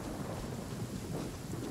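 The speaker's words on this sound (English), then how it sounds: "Oh no, not lightning." Rumbling thunder with steady heavy rain fills a stormy scene in the video game Genshin Impact, a continuous, dense roar with no voices over it.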